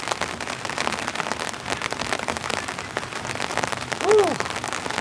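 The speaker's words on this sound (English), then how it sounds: "Seems the rain's really setting in now." Heavy rain drums steadily on a winter camping tent, a dense, continuous patter close by, with a brief louder sound near the end.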